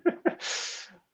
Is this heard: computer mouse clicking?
no